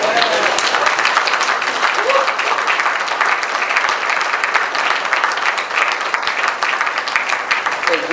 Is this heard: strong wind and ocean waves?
no